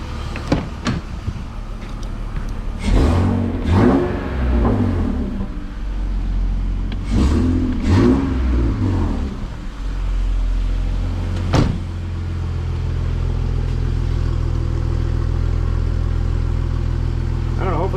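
A BMW E46 engine with newly installed exhaust headers idles, then revs twice in bursts before settling back to a steady idle, with someone talking over it.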